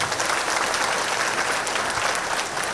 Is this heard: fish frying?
no